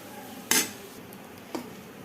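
Bitter gourd fry with chili powder being stirred in a metal pan, two distinct scraping clinks about a second apart over a steady background hiss.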